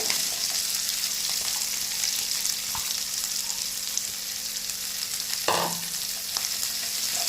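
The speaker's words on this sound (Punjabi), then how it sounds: "ਹੁਣ ਇਹਨੂੰ ਦੇਖੋ 4 ਤੋਂ 5 ਮਿੰਟ ਤੜਕੇ ਨੂੰ ਭੁੰਨ ਲੈਣਾ ਹੈ" Green chili and onion tadka fries in a pan with a steady, close, continuous sizzle, broken once by a brief scrape of stirring.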